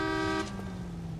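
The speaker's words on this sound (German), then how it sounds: "Hupen die mich einfach an." Car horns honk in the street-driving video game L.A. Noire: a bright, sustained horn tone sounds for a moment, then a lower horn blares on steadily beneath it, close and continuous.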